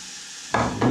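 Chopped shallots hitting a small heated saucepan, a sudden bright sizzle bursting out after a quiet moment and surging again, close and fairly loud.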